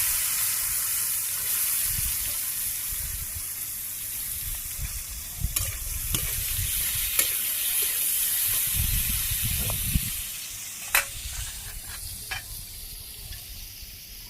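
Vegetables fry in hot oil for a Bangladeshi village-style mixed vegetable and moong dal dish, a steady sizzle punctuated by scraping stirs and spatula knocks throughout, fairly close and alone.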